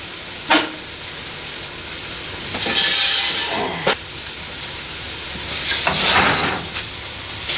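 Food sizzling and frying on a wood stove, a steady crackling hiss that swells and fades, with a few sharp clatters of cookware, close by and without talk.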